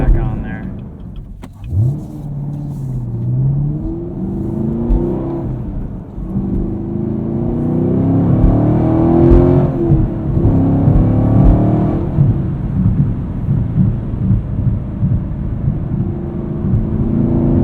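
A 2018 Chevrolet Camaro 2SS with a six-speed manual V8, Hot Wheels 50th Anniversary edition, revs and pulls while driving, its loud engine note rising and falling through gear changes, heard from the cabin.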